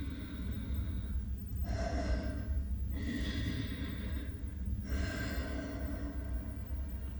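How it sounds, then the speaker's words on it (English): Heavy breathing through a Sith helmet, three slow rasping breaths with hissy, filtered texture over a constant low rumble. "Okay, so some breathing, heavy breathing, and she's got the helmet on"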